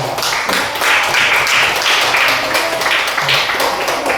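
An audience at a village Quran quiz contest (Fahmil Quran) in Desa Bakungan applauds the contestants, a steady, close crowd of hand clapping that lasts throughout, with some voices mixed in.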